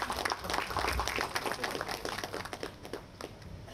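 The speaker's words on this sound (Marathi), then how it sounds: "मान्यवरांचं आपण टाळ्या वाजवून स्वागत करूया" An audience at a book launch event in Pune claps in a steady patter of scattered applause that thins out over a few seconds.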